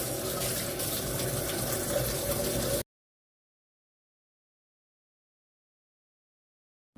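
Tap water runs steadily into a sink while pak choy greens are washed, a close, even splashing rush that cuts off abruptly after about three seconds, leaving silence.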